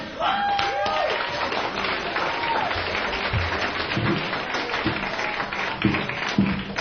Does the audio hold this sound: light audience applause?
yes